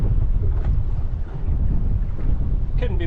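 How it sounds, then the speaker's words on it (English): East wind buffets the microphone on a fishing boat at sea, a loud, constant low roar with faint water movement underneath and a brief tonal sound near the end. "There is an east wind blowing."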